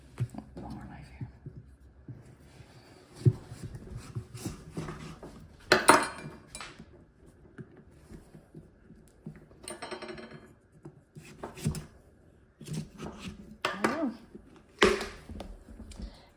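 A spoon and knife pry and split open an heirloom pumpkin, making close rubbing and scraping sounds with a few sharp cracks. The sounds come in irregular bursts with quiet gaps between them.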